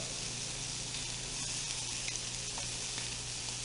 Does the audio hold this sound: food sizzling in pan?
yes